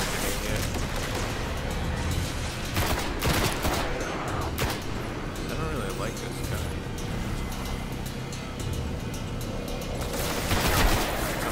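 Automatic rifle gunfire in the Destiny video game, dense bursts of shots over a busy battle mix of explosions and effects, with brief voices mixed in.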